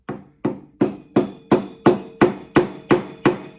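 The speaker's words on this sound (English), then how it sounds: "strike with the hammer a few times" A hammer drives a nail into wood with nine evenly spaced, sharp strikes, each ringing briefly before the next, loud and close with no voices.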